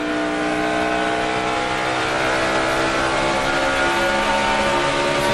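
NASCAR stock cars at full throttle at the 2008 Ford 400, a loud sustained engine roar with layered harmonic whine holding steady throughout, no talking.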